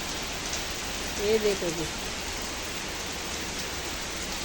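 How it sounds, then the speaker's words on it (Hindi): Heavy rain falls in a dense, steady hiss during a storm with strong winds, while a voice speaks briefly near the start. "और ये लग गई है तगड़ी बारिश।"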